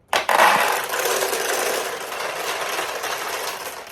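Pachinko balls clatter through a restored 1975 Sanyo Comet II machine, a sudden burst of dense metallic rattling that settles into a steady, bright, close rolling clatter lasting several seconds.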